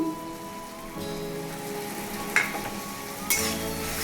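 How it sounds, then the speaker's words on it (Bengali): Ground cumin, coriander and salt frying in a pan for a potato and pointed gourd curry, with a steady soft sizzle and a few louder scraping stirs near the end. "ভালোভাবে দিয়ে মশলাটাকে ভালোভাবে নেড়ে নিলাম।"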